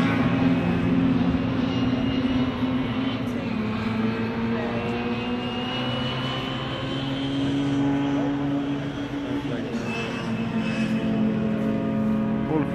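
A Mini Se7en race car approaches at Silverstone, its engine note a sustained harmonic drone that shifts in pitch as it nears, heard from a distance and growing steadily more prominent.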